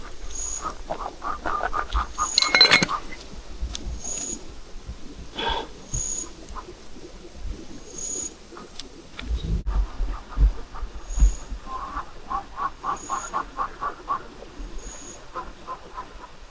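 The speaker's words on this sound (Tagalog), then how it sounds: "Nakakatakot dito yung tunog ng mga ibon" Repeated bird calls, short hoots and chirps in bursts, ring out across a quiet outdoor night, some near and some farther off, with no talking.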